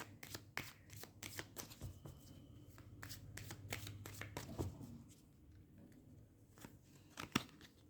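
Tarot cards being shuffled by hand, a quick series of crisp riffling flicks and slaps, close and quiet, continuing on and off throughout.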